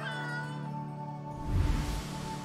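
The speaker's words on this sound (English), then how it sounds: "Smartass, there's a cat outside the shop." A cat meows in the video game Life is Strange True Colors, outside a shop, one drawn-out call rising over steady background music and ambience, fairly close and moderately loud.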